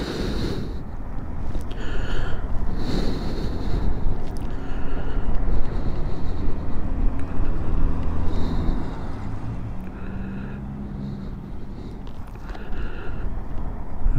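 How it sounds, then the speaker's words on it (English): Steady wind blowing harder than usual against an action camera outdoors, a continuous low rushing roar that fills the whole stretch and rises and falls gently, with faint higher tonal whines drifting above it. "The wind's a bit higher than normal"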